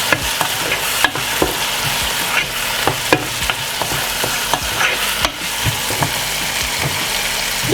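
Breadfruit and dumplings fry in a pan for a Jamaican ackee dish, a loud steady sizzle broken by repeated scraping clacks as a utensil stirs, with no talk.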